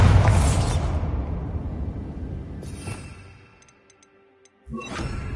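A Bombarda explosion spell from Hogwarts Legacy goes off with a loud boom that rumbles and decays, followed by a quieter whoosh and scattered small debris clicks, then a second loud burst near the end.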